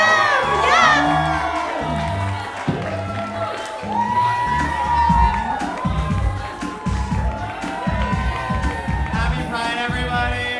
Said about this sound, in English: let's just scream on 1, 2, 3 for Gabe